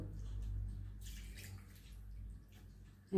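Lemon-curdled paneer being rinsed in water in a home kitchen, a quiet steady wash of running and sloshing water close by, ending in a sudden louder bump.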